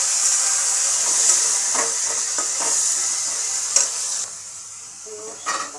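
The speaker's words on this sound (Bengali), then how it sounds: "সামান্য একটু জিরে দিয়ে দিলাম, গোটা তেজপাতা আর শুকনো লঙ্কা, আর মাংসটা দিয়ে দেবো।" Mutton going into hot oil with cumin seeds, whole bay leaf and dried chili, a loud steady sizzle and hiss close by, broken by a few scraping stirs of a spatula in the pan.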